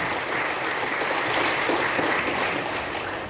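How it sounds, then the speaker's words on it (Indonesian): Applause from an audience at a school education launch event in Indonesia, a steady wash of clapping holding at an even level throughout. "Kita tepuk tangan untuk semua orang-orang hebat"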